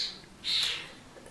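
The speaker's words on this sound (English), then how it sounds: "There are like 27 birds and lots of baby starlings, all screaming." Baby starlings screech outdoors in brief shrill calls, one louder scream in the middle over faint background noise, somewhat distant and heard without talking.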